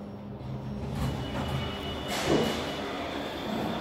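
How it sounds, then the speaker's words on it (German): A KONE elevator car in Vienna travelling downward, a steady low mechanical rumble with a faint hum and soft rattling bumps, moderately loud and continuous, with no voices. "Aufzug fährt nach unten"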